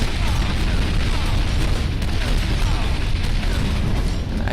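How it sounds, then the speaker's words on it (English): Grenades exploding in the Shadow Complex video game, a loud, continuous rumble of blasts and booming debris with no clear gaps between them. "I guess I want to just come over here and throw some grenades in there"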